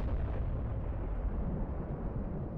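A tank blown up in the military shooter Project Reality: a deep, heavy explosion rumbling and roaring on for a few seconds, loud and booming with no talk over it.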